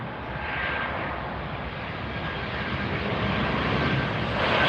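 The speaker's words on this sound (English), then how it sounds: "That's the Amerijet coming in, a 767-300ER" Amerijet Boeing 767-300ER cargo jet landing at Miami, a continuous rushing jet roar swelling gradually louder over a few seconds, heard alone without talk.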